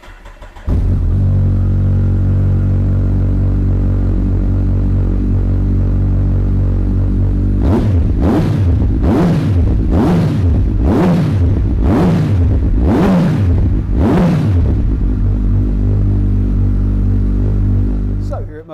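A Kawasaki ZZR1400 hyperbike starts up and settles into a deep, loud idle, then gets seven sharp throttle blips in a steady rhythm before returning to a rumbling idle close by.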